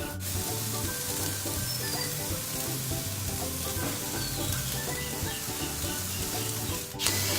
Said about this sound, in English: We really just want that flame to char up the protein and caramelize it really nicely